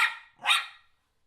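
Two sharp barks from a Schnauzer close by, one right after the other, then silence.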